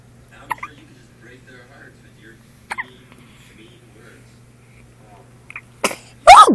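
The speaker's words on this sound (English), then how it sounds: "those are some big sneezes for such a little bitty girl." A small monkey sneezes in a few short sharp bursts, faint early on and then a louder burst near the end, with a person talking softly between them.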